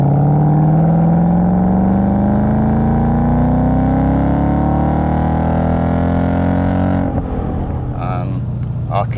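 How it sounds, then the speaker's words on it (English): A 2020 Ford Mustang V8 with a manual gearbox revs hard, its engine note climbing steadily toward the top of the rev range before breaking off into a shift, loud and close. "particularly in the V8, sounds awesome when it gets to the top of the rev range."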